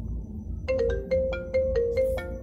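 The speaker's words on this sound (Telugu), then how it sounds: "ఇక్కడ ప్లే అనేది దానిపైన ట్యాప్ చేసినట్లయితే రింగ్ టోన్ అనేది ప్లే అవడం జరుగుతుంది" A custom ringtone plays from a website, a synthesized melody of short bright tones pulsing in an even rhythm, clear and close with a quiet background.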